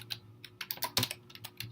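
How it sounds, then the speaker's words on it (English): Rapid typing on a computer keyboard, a dense run of quick, close key clicks with irregular rhythm and a few louder strikes, heard alone at moderate level. "sorry, I was typing fast"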